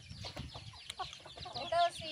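Hens and other chickens on a rural farm cluck softly in a busy, low-level jumble, with one brief clearer tonal call near the end.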